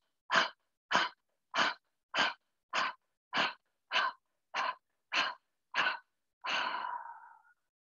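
A close, breathy sequence of ten short, evenly spaced puffs of breath, followed by one long, deep exhale through the mouth that trails off softly.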